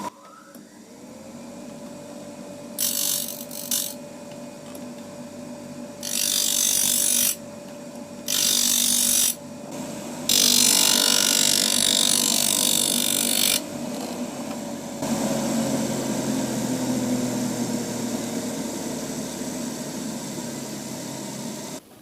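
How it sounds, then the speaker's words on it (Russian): A drill's cutting edge being ground across the face of a grinding disc on a sharpening jig, with bursts of harsh hissing abrasion separated by pauses, over a steady motor hum, loud and close. "И по всей плоскости диска буду стачивать режущую кромку."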